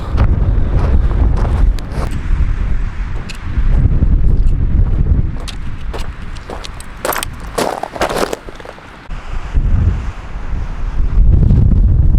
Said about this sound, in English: It's pretty windy today, a little bit chilly too.